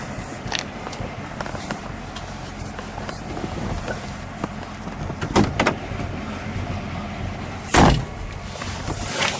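People climb into a 1940 Buick Limited Model 81 C four-door phaeton convertible, with door and body thumps and handling clunks over a steady, close idle rumble from the car.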